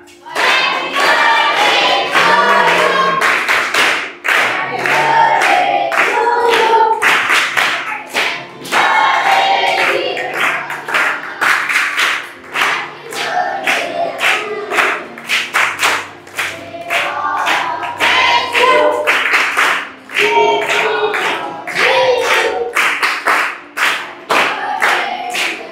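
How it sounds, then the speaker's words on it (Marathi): A group at a birthday celebration in an orphanage claps together in unison, a dense run of close, loud claps mixed with voices and cheering from the crowd. "मग एका स्वरामध्ये वाजवायच्या टाळ्या सगळ्यांनी"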